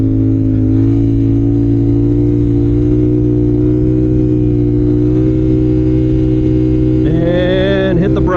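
A motorcycle engine holds a loud, steady droning note close by during a wheelie, then the pitch shifts and rises near the end as the throttle is rolled on.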